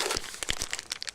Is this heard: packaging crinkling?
yes